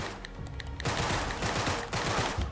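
Loud, dense bursts of gunfire from the video game Uncharted 3 roar almost without pause, surging in waves with no voices.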